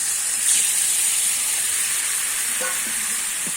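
Spice-plate rinse water hits hot oil and spices in a pan for a Bengali koi fish curry, giving a steady loud sizzling hiss with frying crackle throughout, no voices.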